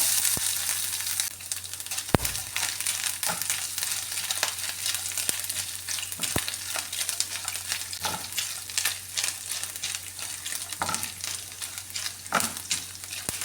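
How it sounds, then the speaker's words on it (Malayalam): Grated coconut and cashews fry in ghee for a chana dal payasam, a continuous close sizzle broken by repeated scrapes and taps of a stirring spoon against the pan, with no voices. "ഇനി ഈ ക്യാഷും ഒക്കെ നെയ്യിലൊന്ന് വറുത്തെടുക്കാമേ ഈ തേങ്ങ ആദ്യം ഇട്ട് കൊടുക്കാമേ"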